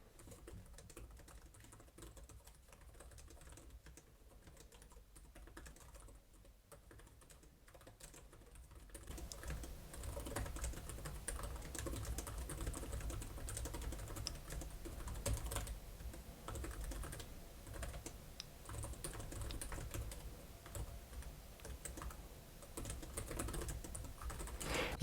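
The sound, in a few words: typing on HP ZBook Studio 16 laptop keyboard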